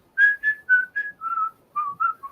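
Eight short whistled notes from a song remix step gradually lower in pitch, sounding clear and close with brief gaps between them.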